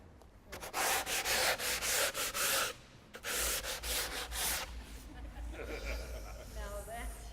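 Hand sanding of an Equitone fibre cement facade panel surface, a steady rhythmic rasping in repeated strokes, close and loud, with a pause midway and people talking.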